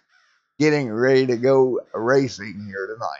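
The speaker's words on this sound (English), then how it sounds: "the crows are definitely calling" Loud crow-like cawing, apparently voiced by people, comes in harsh drawn-out bursts while someone talks over it ahead of a simulated NASCAR Chevy SS Series race at Talladega.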